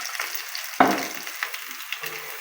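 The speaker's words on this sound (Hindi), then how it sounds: "बिल्कुल हल्की सी आंच पे हमने इसको भूनना है।" Garlic-ginger paste and onion fry gently over a low flame, giving a quiet sizzle with one sharp clatter and a few soft scrapes, and nobody speaks.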